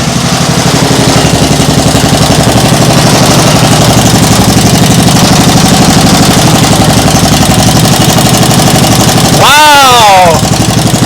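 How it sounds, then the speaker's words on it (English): A motorcycle engine with a leaking exhaust idles loud and close with a steady, rapid putter; near the end a brief voice cuts in over it. "This is idle, the throttle handle is all the way down."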